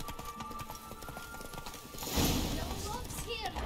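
In The Witcher 3, Geralt's horse Roach gallops with a quick, steady clip-clop of hooves under game music and effects, growing louder as a whoosh of motion sweeps through midway.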